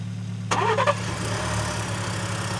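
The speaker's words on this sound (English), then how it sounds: "Now we're gonna start this car and see if it works." A car engine cranks briefly and catches after a jump start, then settles into a steady idle hum that continues to the end.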